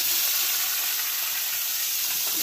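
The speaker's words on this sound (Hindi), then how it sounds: "आप देख सकते हैं सरसों लाल हो गया है। अब डालते हैं टमाटर को।" Tomatoes dropped into hot oil with reddened mustard seeds, sizzling and frying steadily with a bright hiss throughout, close and fairly loud, no voices.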